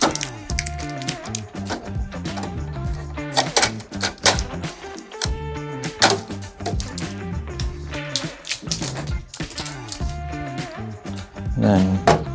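Packing tape being peeled and pulled from an Epson ColorWorks C8000e label printer during unboxing: a busy run of close crackles, taps and clicks lasting throughout, with no talk.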